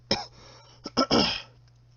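A person coughs in a quick series of close, sharp bursts: one short cough, then two more in fast succession that run into a longer rough cough, followed by quiet.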